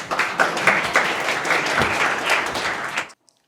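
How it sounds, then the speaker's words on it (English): Audience applause for a hackathon team at a demo event, a dense burst of many hands clapping at steady loudness for about three seconds, then cutting off abruptly into silence. "Let's give a round of applause for Team A0."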